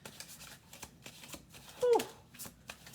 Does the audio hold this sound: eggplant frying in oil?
no